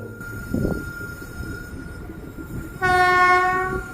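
A small passenger train at Pollachi rumbles nearby, then its horn blasts loud and sustained for the last second or so, with no talking.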